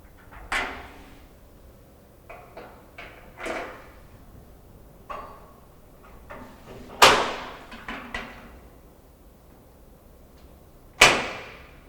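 A metal Edsal ready-to-assemble tall cabinet door being fitted onto hinge pins with rubber grommets, giving scattered close knocks and taps across the stretch, with two sharper metallic clanks near the middle and the end.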